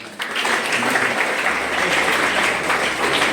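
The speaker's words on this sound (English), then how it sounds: "Give a big clap to Soros South." Audience applause at a national seminar held at a university in Balangir, breaking out abruptly and holding as a dense, steady roar of many hands from a large crowd, loud and close throughout.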